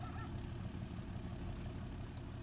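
A Ram 3500 pickup's engine idles steadily in Farming Simulator 19, a continuous low rumble at even level with no voices over it.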